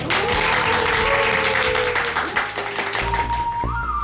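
A church children's group applauds at a Sunday worship service, a dense, steady clapping that lasts the whole stretch before a tone sounds near the end.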